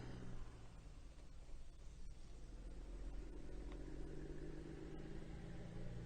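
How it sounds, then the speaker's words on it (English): A garbage truck's low, steady engine rumble idles continuously at a distance, with faint mechanical noise layered over it and no voices. "That looks like a garbage truck."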